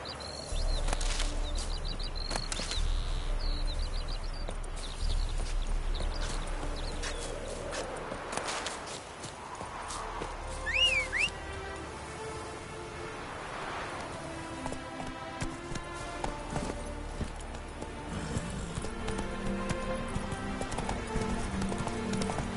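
Hooves of the horse Roach clip-clop in a quick galloping rhythm in The Witcher 3, with a whinny, game ambience and music-like tones mixed in and brief voice-like sounds.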